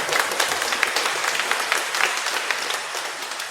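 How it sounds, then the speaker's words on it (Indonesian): Congregation in a Catholic church applauds a newly wed couple at their wedding, a steady wash of many hands clapping close and loud throughout, with no voices standing out. "Ayo kita semua tepuk tangan"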